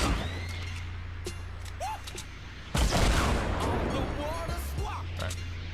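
Rocket launcher fire and explosions in Fortnite, with a sudden loud burst about halfway through giving way to a dense crackling rumble and scattered bangs, all under a steady low game hum.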